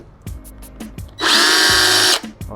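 A cordless power drill whirs loudly for about a second as it backs out screws on a Solaris front tank during cleaning, with light clicks and handling knocks before and after.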